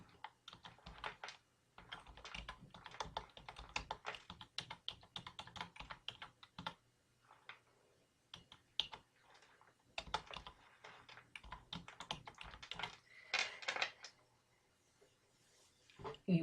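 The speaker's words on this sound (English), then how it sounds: "you wanted to type something like that" Typing on a computer keyboard: quick irregular bursts of clicky keystrokes with short pauses, close and quiet, no talking.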